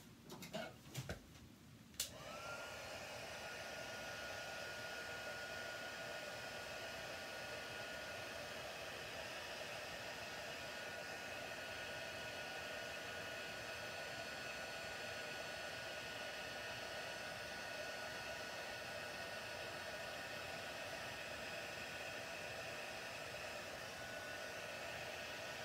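A heat tool blows hot air steadily over embossing powder on a stamped card. Its even, hissing whir runs almost the whole time and starts right after a few brief knocks.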